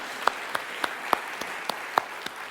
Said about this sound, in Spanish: démosle un aplauso a Dios nuestro Señor.